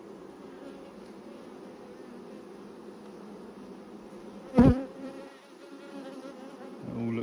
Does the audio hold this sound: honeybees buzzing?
yes